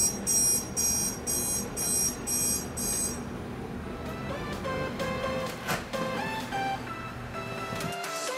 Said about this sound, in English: Usually alarm clocks are made to wake up people.